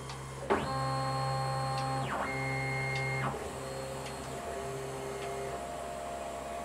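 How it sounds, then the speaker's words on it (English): CNC milling machine returning its axes to the home reference position, its stepper motors whining in steady tones that shift pitch in a few distinct stages over a constant mechanical hum. "My machine is now homed again."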